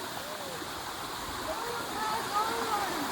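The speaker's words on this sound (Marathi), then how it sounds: "ओढ्याला पाणी आहे" A stream rushes with steady, continuous flow, heard from nearby at moderate level, with faint voices and bird-like chirps over it.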